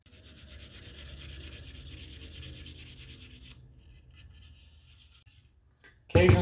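A wooden SKS rifle stock being refinished is hand-sanded with sandpaper, making a soft, steady scratchy rubbing for several seconds that fades out before a sudden loud knock at the end.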